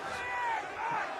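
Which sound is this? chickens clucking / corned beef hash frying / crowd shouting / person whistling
crowd shouting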